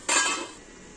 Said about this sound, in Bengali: এবার আমি ঢেকে দিচ্ছি